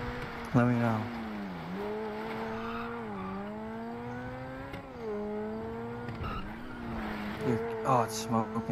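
A car in a video game roleplay drives hard off-road, its engine whining and rising and falling in pitch with repeated revs and tire squeal, loud and close throughout.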